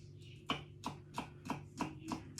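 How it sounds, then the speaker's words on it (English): A knife chops chili finely on a board, seven evenly spaced crisp knocks in a steady rhythm, close and fairly quiet, with no talk. "finely chopping as well."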